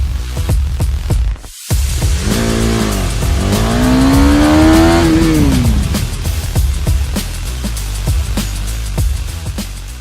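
Engine of a motorcycle braking hard into a long stoppie, nearing the final braking point at about 60 km/h; loud, close motor noise holds steady, with a brief cut and a rising-then-falling whine in the middle.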